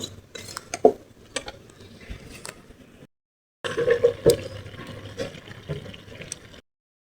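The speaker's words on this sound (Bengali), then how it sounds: "এখন পুঁই শাক দিয়ে ভালো করে কষাই নিব।" Malabar spinach with prawns stir-fried in a pan, with scraping spatula clatter and metallic scrapes in bursts, a short pause, then busier stirring and wet sizzle, no voices.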